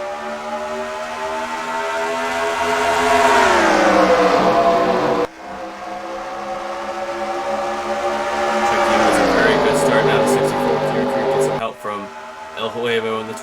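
Race cars roaring off the line at the start of an Atlanta race, a rising and falling engine howl that swells loudly as the field passes close, with a commentator talking over it.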